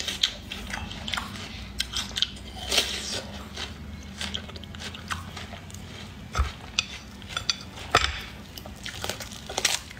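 Crisp bites and crunchy chewing of a green-skinned snack, close and quiet, with irregular sharp crackles and occasional clinks of dishes between bites.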